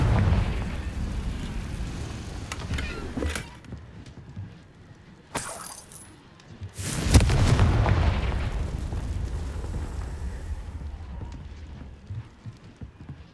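Bombarda explosion spell in the video game Hogwarts Legacy: a few scattered pops, then two big bursts with crackling, rumbling tails, the second loudest and lingering, without talk.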